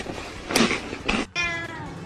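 A cat meows a couple of times in a meme, close and clear. A brief voice follows and a short tonal sound comes after.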